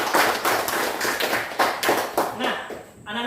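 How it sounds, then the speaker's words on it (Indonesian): A classroom of young children claps together in a quick, rhythmic pattern of sharp hand claps, loud and close, with voices mingled in toward the end. "tepuk tangan semua dulu."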